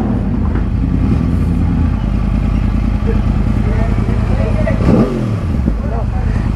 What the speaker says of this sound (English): Some rev bombing scenes happening over here.